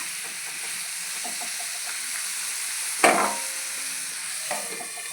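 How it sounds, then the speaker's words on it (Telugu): Potatoes and onions fry in a pan with a constant sizzling hiss, broken by a louder clatter of stirring near the middle and a softer scrape shortly after. "ఇప్పుడు కొద్దిసేపు ఆలుగడ్డలు మగ్గించుకోవాలి."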